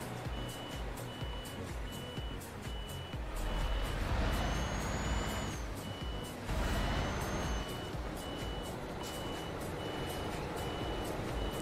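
A truck reverses in a driving video game, its steady backup beeper pulsing at a regular rhythm over a loud engine rumble, with two brief rising whines cutting through midway.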